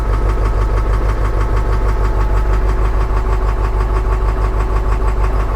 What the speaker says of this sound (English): The engine actually doesn't sound too bad